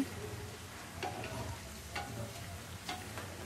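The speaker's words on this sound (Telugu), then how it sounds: "ఇవి కలుపుతూ ఫ్రై చేసుకుంటే పన్నీర్ ముక్కలన్నీ బాగా ఫ్రై అవుతాయి." Paneer pieces frying in hot oil in a pan while being stirred, giving a steady close sizzle with a few soft scraping strokes at regular intervals, no voices.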